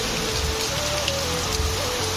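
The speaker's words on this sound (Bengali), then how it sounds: "দেখো কীরকম বৃষ্টি হচ্ছে, প্রচুর বৃষ্টি হচ্ছে, প্রচুর" Heavy rain pours steadily onto surfaces as a continuous hiss with scattered drops, loud and close, no voices present.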